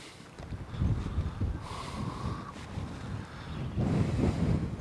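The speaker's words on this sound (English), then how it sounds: "Still bloody windy though as well." Strong wind blows outdoors, a steady rushing roar with low buffeting swells that rise and fall against the microphone, no voices present.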